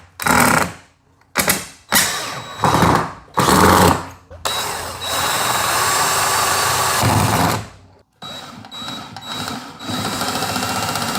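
A power drill drives screws into a wall to wedge a power supply in place, with several short loud whirring bursts separated by pauses, then a longer steady run before more short bursts.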